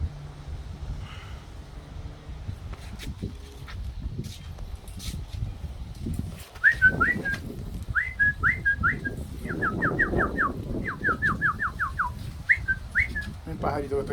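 A small bird at dusk beside an outdoor bonfire gives bursts of quick, clear repeated whistled notes, moderately close, over a low background rumble and occasional rustling.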